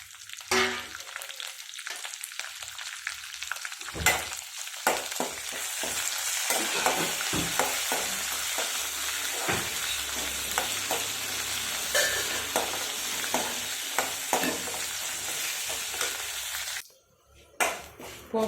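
Dried red chillies and curry leaves hiss and crackle as they hit hot oil in a tempering for cabbage chutney, with a loud, continuous sizzle and scattered pops that cut off abruptly near the end.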